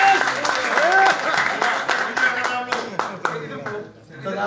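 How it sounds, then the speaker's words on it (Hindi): Audience applause at a political event where leaders are welcomed into the BJP in Jammu and Kashmir, loud sustained clapping from a crowd with voices over it. "ताली ताली भी बजाइए।"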